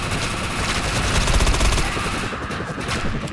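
Rapid automatic gunfire in the shooter Defiance, a dense, continuous rattle of loud shots that runs for about two seconds before thinning out near the end.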